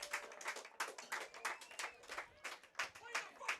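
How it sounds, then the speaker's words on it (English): A crowd at a rugby sevens tournament claps in uneven bursts during a standing ovation. The applause is fairly faint, and voices can be heard talking over it. "Deservingly getting a standing ovation from the crowd here in South Bend."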